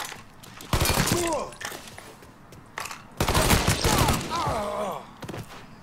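Gunfire in the video game Mafia 3, two loud bursts of close shots with echoing impacts, separated by a short gap, with game voices and sounds mixed in.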